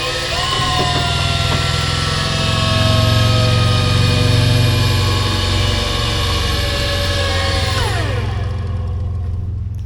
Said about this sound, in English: I just have a feeling that pump isn't very good. It's very noisy